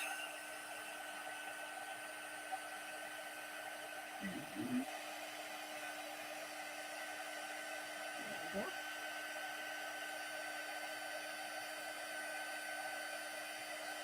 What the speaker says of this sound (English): you can just start then moving your heat tool over the whole image to melt all of the embossing powder